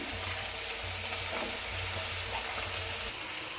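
Brinjal pieces frying in a pan with green chillies and onions give a loud, continuous hissing sizzle, close and steady throughout with faint stirring scrapes.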